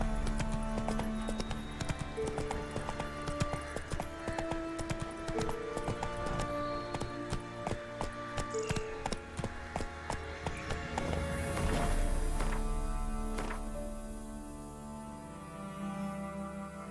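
A horse's hooves clip-clop in The Witcher 3, a steady rhythmic trot over game music. The pace shifts partway through and the gait fades toward the end.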